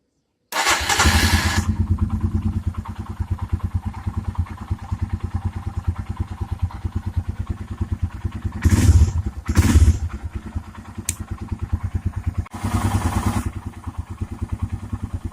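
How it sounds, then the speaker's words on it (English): A fuel-injected Royal Enfield Himalayan BS4 motorcycle starts and idles with a loud, close, even single-cylinder thump. A few louder revving bursts rise partway through. "let me just turn it off the bike and again start it"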